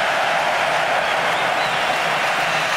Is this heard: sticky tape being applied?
no